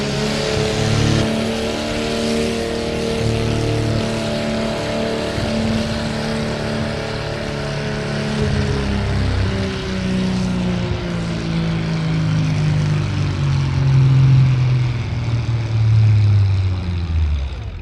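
An Oliver 88 tractor in Class A, up to 6,000 pounds, pulling a Track Boss transfer sled at the Ashland tractor pull, its engine roaring loud and close in a sustained drone that strains and rises toward the end.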